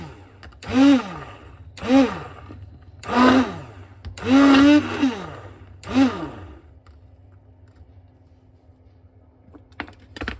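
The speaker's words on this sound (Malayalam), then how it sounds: "അപ്പോൾ ഇത് നമ്മൾ ബീറ്റർ വെച്ച് ബീറ്റ് ചെയ്യാൻ പോവാണ്." An electric beater whirs into a mixture in five short bursts, each rising and then winding down, followed by near quiet and a few faint knocks.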